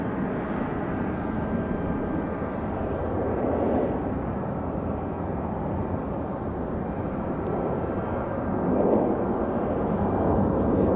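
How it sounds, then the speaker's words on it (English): An American Eagle regional airliner at Raleigh-Durham airport, its jet engines roaring steadily at a distance and swelling louder toward the end. "Looks like we've got an American Eagle."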